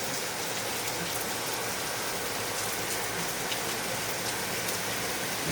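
Continuous rainfall outside makes a uniform, wash-like patter that holds at an even level throughout, with no one speaking.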